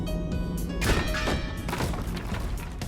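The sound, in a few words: player dashing into blocks in BONELAB video game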